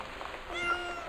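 A person imitates a cat's meow, a single short, drawn-out mew with a rising, wavering pitch, close and fairly soft.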